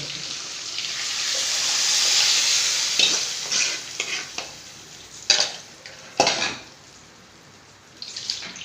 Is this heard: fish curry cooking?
yes